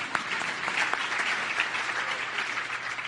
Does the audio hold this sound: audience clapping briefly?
yes